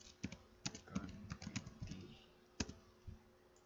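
Close, quiet keystrokes on a computer keyboard while entering configuration commands in Packet Tracer, arriving as irregular clicks and taps in short bursts with brief pauses between them.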